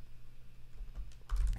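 Computer keyboard typing for a search entry, a short burst of soft keystrokes that grows louder near the end, quiet and close.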